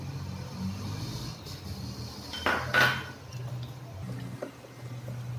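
Chopped onion, capsicum and tomato being tossed together in a bowl for paneer tikka. Utensils clink and scrape against the dish in a steady run of close clatter, with a sharper knock partway through and no talking.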